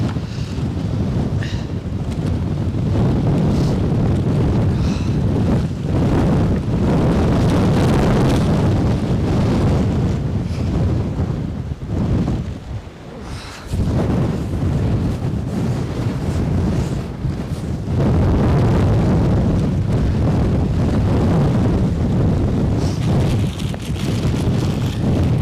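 Strong gusty wind above 50 mph buffets the microphone at Edinburgh airport, a loud continuous roar that surges and briefly dips midway before pounding back, with no voices present.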